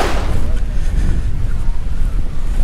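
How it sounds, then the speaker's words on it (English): Strong wind at a beach inlet on the Florida coast buffets the microphone in a loud, steady low roar throughout, with no other clear sound. "Windy day at the beach."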